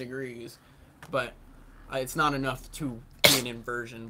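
Amid podcast chatter, a sharp, sudden sneeze bursts out near the end, loud and brief, with people talking before and around it.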